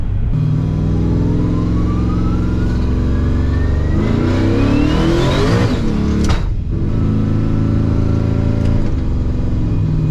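Twin-turbo LSX-swapped Cadillac Escalade engine revving hard on a first test drive, a loud close roar climbing in pitch with a turbo whine rising over it, then dropping off around midway and settling back into a steady rumble.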